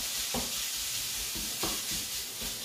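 Ground meat fries in a dry pan with no oil, its own fat just starting to render, giving a steady close sizzle broken by a few scraping stirs of a utensil.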